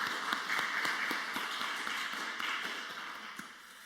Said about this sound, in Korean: 우리 성숙 5구역 식구들과 또 수요 경배 찬양팀 축복하고 격려하는 박수 하도록 하겠습니다